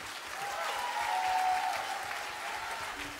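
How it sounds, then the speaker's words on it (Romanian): Audience applause at an unplugged concert, a steady wash of clapping from a crowd lasting a few seconds with no talk over it. "Aplauze, vă rog frumos."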